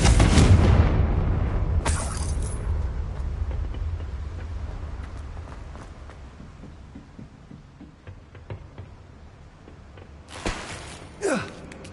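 A Confringo fire spell explodes in the Hogwarts Legacy video game, a loud booming blast at the start that fades into a long rumbling tail, followed by a second brief burst and later more spell effects.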